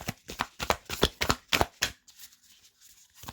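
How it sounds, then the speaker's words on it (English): Tarot cards shuffled close up in a quick burst of crisp riffling flicks, about a dozen rapid strokes, then softer slides and taps as cards are drawn, no talking. "Okay, so I'm gonna get you a couple of cards for your"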